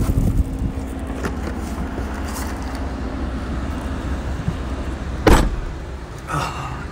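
A car drives through Death Valley with a steady cabin rumble and road noise, a sharp thump like a door or window partway through, close and continuous without talking.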